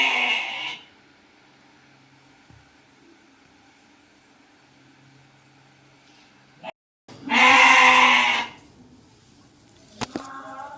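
Goat kept at home for the Eid Qurbani sacrifice, bleating once loudly and close after a stretch of quiet household background, with a brief clatter afterward.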